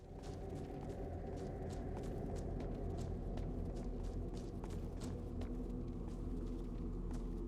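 Storm Golem in a heavily modded Skyrim game, a constant loud low rumble with faint repeated thudding steps layered over it throughout.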